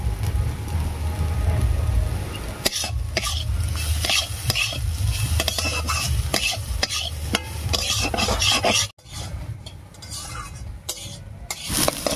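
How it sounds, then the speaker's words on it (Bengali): Gobindobhog rice fries noisily in a pan with salt and turmeric, continuous sizzling, crackles and scraping stirs, briefly pausing near the end before resuming. "চালটা দেখুন ফুটতে আরম্ভ করেছে,"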